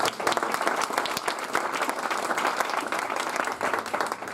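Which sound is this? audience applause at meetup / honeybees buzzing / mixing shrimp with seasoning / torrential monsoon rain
audience applause at meetup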